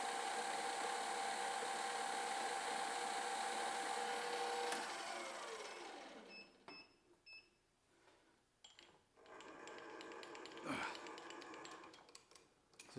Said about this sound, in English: I like that it's got a gear drive spindle, but it is loud